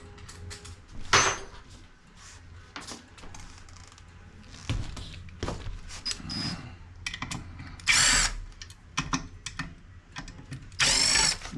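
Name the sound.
power tool removing Segway G2 front wheel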